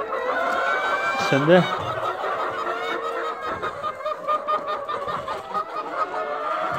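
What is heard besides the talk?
chickens clucking in coop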